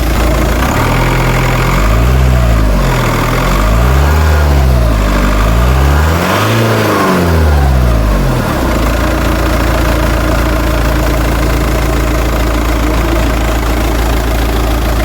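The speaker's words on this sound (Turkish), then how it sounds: "Biraz gaz vereyim görün" A 2003 Volkswagen Passat B5.5 diesel engine idles, then revs up several times in repeated rising-and-falling bursts before settling back to a steady idle.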